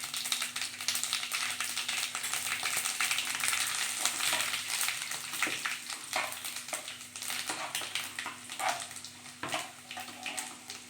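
Mustard seeds, cumin, chana dal and urad dal sizzling in hot oil, a dense continuous frying hiss with frequent small crackles and pops, close and steady throughout.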